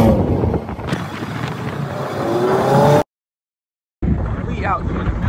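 A car rolls through island jungle, its engine rumble mixed with loud wind buffeting the microphone and some indistinct voices, cut by a second of dead silence before the driving noise resumes.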